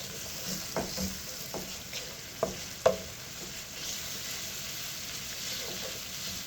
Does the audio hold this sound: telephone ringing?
no